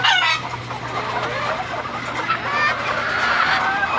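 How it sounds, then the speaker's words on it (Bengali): Chickens and roosters at a backyard poultry coop cluck steadily and close by, with scattered squawks and a brief crow-like call rising over continuous low clucking for the whole stretch. "এই যে কত সুন্দর মোরগ, এই যে পুরান মোরগটা অনেক"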